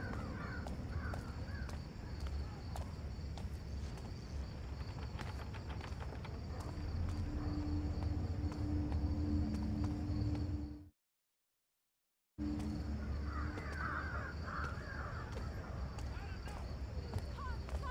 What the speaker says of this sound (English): I hear the call of the crows.